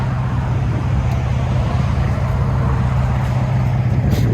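A 2006 Cadillac CTS with a 3.6L V6 and Magnaflow true dual exhaust idles nearby, a loud, steady deep rumble that holds even throughout without revving.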